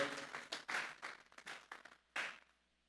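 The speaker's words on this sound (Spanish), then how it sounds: "Vamos a darle una ofrenda de palmas a Dios en esta hora." A church congregation at a Sunday service claps, but faint and distant, a few scattered bursts of sharp claps with quiet gaps between them.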